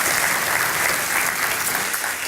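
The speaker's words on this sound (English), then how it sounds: "A big round of applause for all of our elected officials who are serving and are here today." An audience applauds elected officials at a chamber breakfast, a loud, dense and continuous wash of clapping that fills the whole moment without pause.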